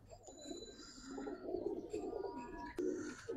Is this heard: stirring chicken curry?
no